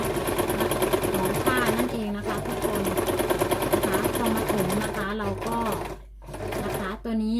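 A sewing machine running steadily as it stitches a straight seam through fabric for a beginner practising straight lines, a continuous close whirring hum that pauses briefly near the end, with someone speaking over it.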